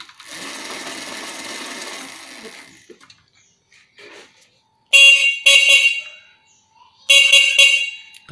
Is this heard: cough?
no